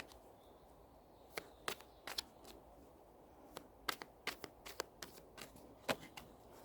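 Tarot cards are shuffled and pulled from a deck in a quiet room, a run of soft, crisp riffles and snaps in irregular bursts with short pauses between them.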